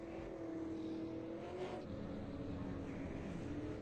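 Race cars in the iRacing video game pull away from pit road at Nashville, a steady engine drone with slight revving, held at a constant level throughout with no talk.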